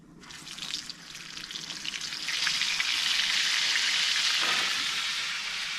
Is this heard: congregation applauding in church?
no